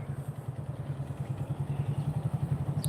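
A motorcycle engine throbs at close range with a steady, rapid pulsing beat as the bike rides through a training lesson, holding an even throttle for the whole stretch.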